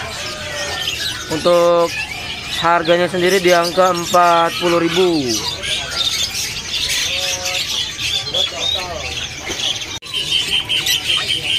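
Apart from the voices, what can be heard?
white-vented myna calling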